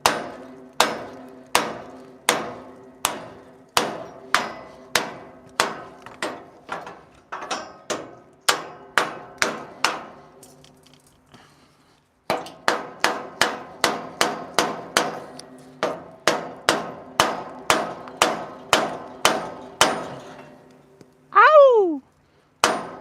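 Steady metal-on-metal hammer strikes knocking bolts out of a garden rake head, a long run of sharp ringing blows in an even rhythm, a brief pause, then more hits, close and loud, ending with a short squeak.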